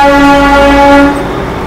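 A Darjeeling Himalayan Railway toy train sounds its horn in one loud, close, sustained toot lasting about a second, on a foggy, rainy mountain run.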